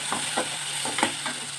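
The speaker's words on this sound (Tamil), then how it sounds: "தக்காளி நல்லா வதங்கணும்." Tomatoes and onion sautéing in a pan, a steady close sizzle with several scraping stirs of a spoon at irregular intervals.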